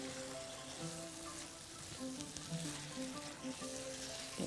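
A spoon stirs tomato paste in a hot frying pan, giving a faint crackling sizzle with soft scraping strokes over a quiet kitchen background.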